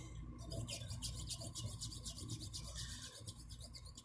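A jeweler's saw cuts through a metal miniature casting in quick, rhythmic rasping strokes, close and steady, with no talking.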